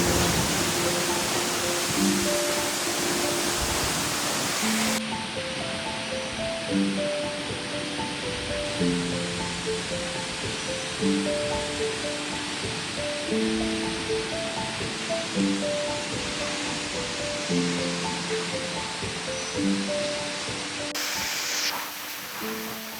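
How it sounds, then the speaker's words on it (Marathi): A monsoon waterfall roars as a constant broadband rush of falling water driven by strong wind, with melodic music playing over it throughout. "वाऱ्याचा आणि पाण्याचा भरपूर फ्लो आहे मित्रांनो"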